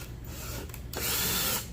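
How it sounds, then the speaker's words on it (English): Power drill driving a self-tapping screw into a homemade stage light, a close whirring buzz that pauses briefly, then resumes in a louder, steady burst of about half a second. "I like to grab the screw, the self-tap screw, just kind of select this area right here, slowly drill"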